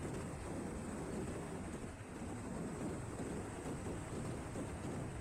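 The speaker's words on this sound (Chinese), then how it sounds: "好大风啊！" Strong wind roars steadily against a motorcycle crossing a river bridge near the Spain–Portugal border, a constant, dense, muffled buffeting with no breaks.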